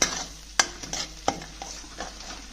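A garlic, onion and chili paste for chole is stirred in a pan over low flame, with several distinct spoon strikes and scrapes against the metal over a gentle ongoing sizzle, close by and without talk.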